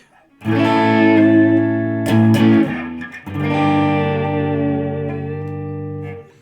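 A clean electric guitar through a Fender CyberTwin amp on its Deluxe Reverb '65 model rings out two sustained chords with a warm, reverberant tone, a brief pick scrape between them, with no talking.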